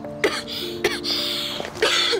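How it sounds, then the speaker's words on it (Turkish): A few short throat-clearing coughs, spaced unevenly over a couple of seconds against a faint background hum. "Öksürüyor böyle."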